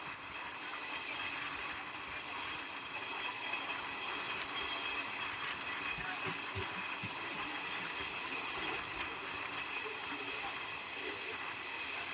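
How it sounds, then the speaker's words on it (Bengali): The Teesta Torsa Express runs along the line near Naihati, a steady muffled rumble and rattle of wheels heard from inside the train, with faint squeals and hiss throughout and no talk. "একদম রাইট টাইমে বেরিয়ে পড়েছে আমাদের ট্রেন"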